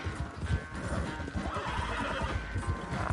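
Horse neighing and hooves galloping in Red Dead Redemption 2 gameplay, a steady dense clatter of hoofbeats with whinnies, loud and continuous throughout with no talk.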